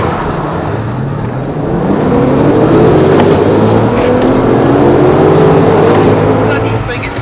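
A Porsche 997 GT2 and a Corvette Z06 accelerate hard, with a loud, steady engine roar whose pitch climbs continuously over several seconds.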